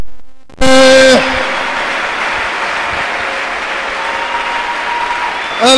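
A church congregation breaks into loud, sustained applause after a brief quiet moment. The dense clapping carries on steadily alongside a faint electronic hum.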